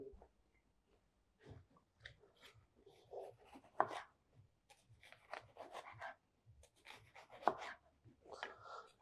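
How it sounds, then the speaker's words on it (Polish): A knife slices a peeled red onion into rings on a cutting board, giving a scattered series of soft, crisp cuts and taps at an uneven pace, fairly quiet and close. "Obieramy i kroimy w plastry."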